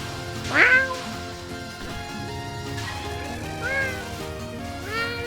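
A cat meows three times in the video game Touhou Subterranean Animism, short clear cries spaced apart over the game's background music.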